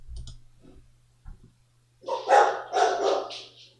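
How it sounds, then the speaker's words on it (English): A dog barks in the background, a short burst of several sharp, slightly distant barks in quick succession after a few faint clicks and a low hum. "There's a dog barking in the background."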